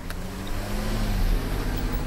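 A car or two passing on a village road, a steady low rumble of engines and tires swelling slightly as the vehicles go by, heard from the roadside without any talk.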